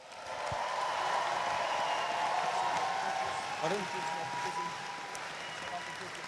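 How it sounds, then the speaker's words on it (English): A comic con crowd applauds and cheers for cosplay championship contestants, a steady mid-level wash of clapping with background voices, fairly distant in a large hall. "I think we need a huge round of applause and cheers for all of our contestants."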